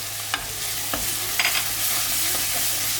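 Sautéed onions with turmeric sizzle steadily in a pan for a dry fish kulambu, a loud constant frying hiss broken by a few soft scrapes and clinks of stirring.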